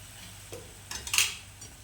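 Peanut powder being added to a tomato curry in a pan and stirred, giving faint soft scraping and a few light metallic clinks of a spoon against the pan, quiet and close with no talking.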